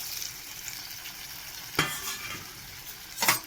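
Loitta fish coated in salt and turmeric frying in a pan with a splash of water: a soft, steady sizzle punctuated by two louder scraping stirs.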